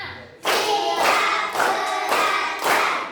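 A group of students claps a counted rhythmic pattern in an Indonesian classroom clapping game, bursts of many hands starting together and repeating in short beats, loud and close with no talk.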